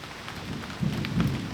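Steady rain patters down on a gazebo roof, a dense, continuous hiss close by with a few heavier drumming swells and no voices.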